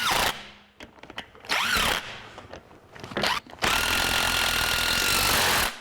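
A power tool rattles in loud bursts while running down axle housing bolts on a 1982 Jeep CJ7, with short hammering blasts, brief pauses, then a longer sustained run up close in a workshop.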